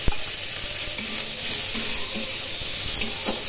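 Shrimp sizzling in a hot pan with salt and turmeric, a dense continuous frying hiss with soft stirring knocks, close and without talk.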